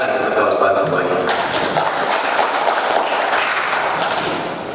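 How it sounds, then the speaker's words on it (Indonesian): Applause at a formal council session in an Indonesian hall: a crowd claps steadily and loudly, then fades slightly toward the end, with speech faintly present underneath. "tepuk tangan untuk kawan-kawan semuanya"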